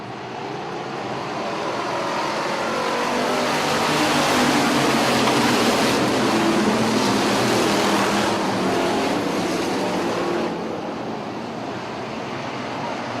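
Hobby stock race cars circling a track in a feature race, a loud, dense engine roar that swells and holds as the field passes, then eases slightly toward the end with no talk.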